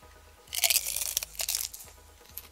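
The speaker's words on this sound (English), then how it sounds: "Now that was a significant crunch." Pringles Reuben flavoured chips crunched in a series of loud, close, crisp bites that come in dense bursts and then taper off into smaller crackles.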